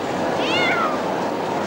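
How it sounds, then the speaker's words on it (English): A single drawn-out cat meow rises and falls in pitch, clear and close, standing above a steady background hiss. "Meow! Meow! Meow! Meow! Meow!"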